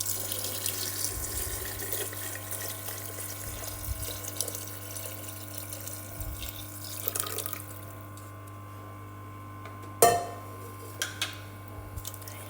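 Hot water pours from a tap into a cooking pot, a steady close splashing stream that stops partway through, then a louder clank and a few faint drips.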